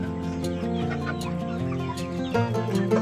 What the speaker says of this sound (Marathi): हा जो कोंबडा समोर दिसतोय हा कोंबडा मी मला घरात ठेवणार आहे पाळण्यासाठी